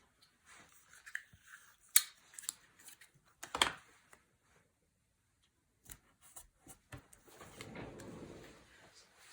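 Quiet, intermittent snips and paper rustles of scissors cutting out paper sound close by in a calm indoor space, scattered in short irregular bursts with pauses between.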